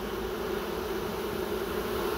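A continuous close hum of bees fanning their wings at the entrance of a hive, an even, unbroken buzzing drone with no talking over it.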